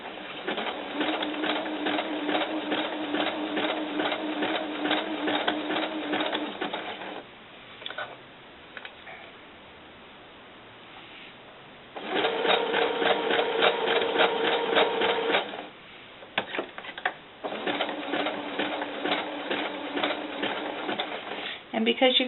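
A sewing machine stitches a seam on a doll cover, running in two steady bursts separated by a quieter pause, with a shorter stretch of stitching at the end; a person talks during the gaps.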